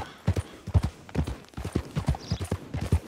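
Horse hooves clip-clop in Red Dead Redemption 2 with a steady, quick rhythm of light thuds. The sound is moderately distant and fairly quiet, with no talk over it.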